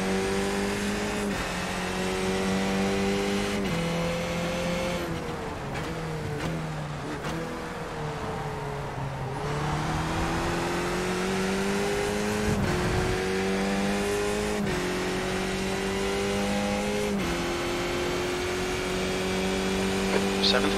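Skip Barber race car engines roar and rev in iRacing at Donington Park, the pitch rising through each gear and dropping on shifts, with nearby rival cars and a spotter's voice talking over the engines.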